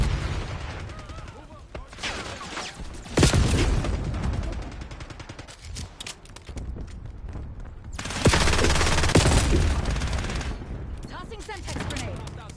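Relentless gunfire crackles in a Call of Duty: Black Ops 6 match, punctuated by two heavy Semtex grenade blasts that swell loud and dense, with a voice faintly beneath the chaos.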